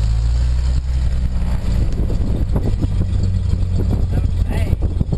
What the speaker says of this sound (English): It's now time to start the engine.